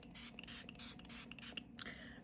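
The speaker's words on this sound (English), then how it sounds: "for setting spray, I'm gonna go in with my LA Girl setting spray" LA Girl makeup setting spray misted from close range in a series of short, quiet hissing bursts with brief pauses between them, no voices.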